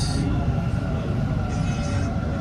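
A Bengaluru metro train rolls along toward Cubbon Park with a steady, loud, continuous low rumble and rattling hum that never lets up.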